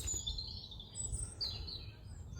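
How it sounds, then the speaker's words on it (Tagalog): Faint, high bird chirps and thin whistled calls in a forest in the Netherlands drift over a low outdoor rumble, scattered and distant rather than close. "Ang mga huni ng mga ibon."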